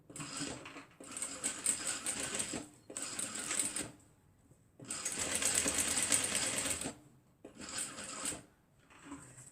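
A sewing machine stitches a fabric face mask in several close, loud bursts of rapid whirring, each run broken by short pauses.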